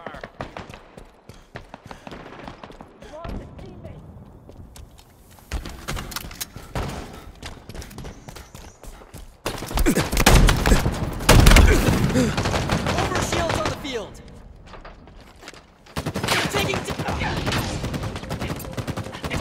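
Bursts of automatic gunfire and rapid shots ring out in a Halo Infinite match, intermittent and loud, with in-game voice callouts and talk mixed between the volleys.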